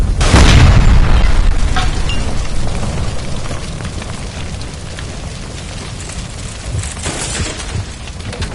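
A gas line blows up in the detective game L.A. Noire: a heavy, booming blast opens loud at the start, then a long rumbling roar with debris and crackle fades slowly, swelling again briefly near the end.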